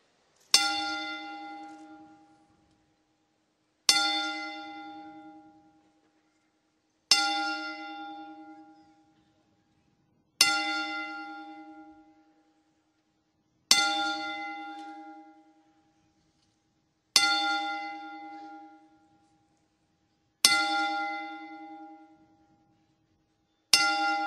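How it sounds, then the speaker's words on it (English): A single bell tolls eight times at steady intervals about three seconds apart during a ten-bell tribute on a wrestling podcast, each strike ringing out and fading before the next. "If you all can please be quiet for 40 seconds to toll 10 bells."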